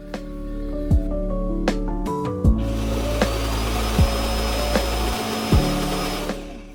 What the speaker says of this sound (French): le dock a aspiré toutes les poussières contenues dans l'aspirateur